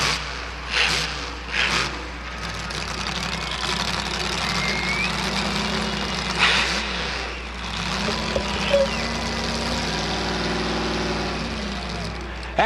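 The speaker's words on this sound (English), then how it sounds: "Here comes Boris, the monster truck, with one more run up and over the cars" Boris the monster truck at a truck and tractor pull runs up and over cars, its heavy engine droning and surging over a steady low hum, with crowd noise and an announcer's voice over the top.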